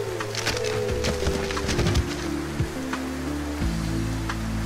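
Heavy rain falls in a forest as a story sound effect, a dense steady patter with scattered heavier drops, mixed over low droning music tones.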